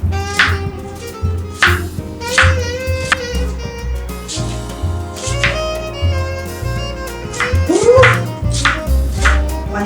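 A knife chops an onion on a board, a series of crisp, fairly regular taps set under continuous background music.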